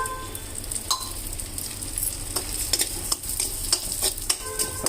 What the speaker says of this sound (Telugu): ఒక 2-3 నిమిషాలు దీన్ని వేయించుకుందాం.